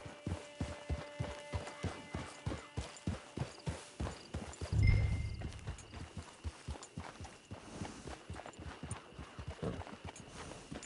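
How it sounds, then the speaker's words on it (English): Horse hooves clip-clop steadily at a walking pace in Red Dead Redemption 2, a regular close rhythm with a brief louder thump midway and a low ambient hum beneath. "It's your horse."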